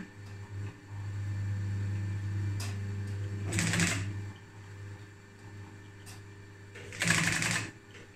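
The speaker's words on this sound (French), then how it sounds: "Je fais un coup de machine arrière" A triple-feed sewing machine stitches upholstery in two short bursts, each a quick rapid whir over a low steady motor hum, with quiet pauses between them and no talk.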